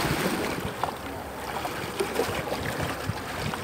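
Boat motors run steadily on open water on a sea turtle rescue outing with a fishing charter, a continuous low drone mixed with wind buffeting and water noise, with no talk.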